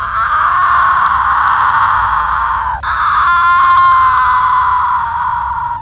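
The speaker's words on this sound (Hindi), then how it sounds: "पेड़ से चुड़ैल की चिल्लाने की आवाजें आने लगती है" A witch's shrill scream coming from a tree, a sustained wailing shriek that breaks off briefly near the middle and then resumes, loud and continuous over a low rumble.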